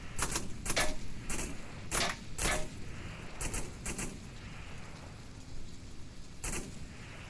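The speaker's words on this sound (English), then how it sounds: "Lots of suppressing fire coming over from the playground." Light machine gun suppressing fire in the VR shooter Onward comes as several short bursts of sharp reports, loud at first and then sparser, with gaps of quieter ambience between bursts.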